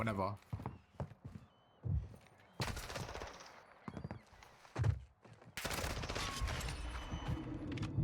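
Bursts of automatic gunfire and single shots come from the Modern Warfare II video game, in uneven clusters, with a long, loud barrage near the end. A voice talks over parts of it.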